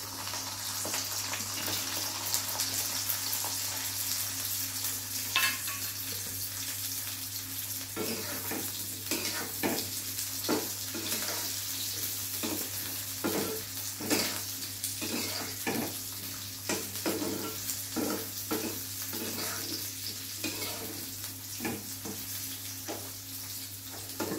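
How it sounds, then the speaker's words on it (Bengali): Cauliflower and carrot frying lightly in white oil in a pan, a constant hiss of oil broken by frequent sharp scraping strokes of a spatula, growing busier in the second half, with no talking. "ফুলকপি আর গাজরটা ভেজে নেব হালকা করে"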